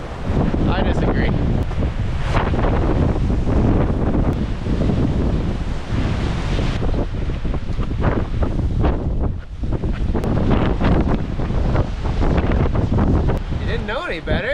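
Strong gusting wind buffeting the microphone while hiking the W Trek in Patagonia, Chile, loud and continuous roaring with hikers talking beneath it.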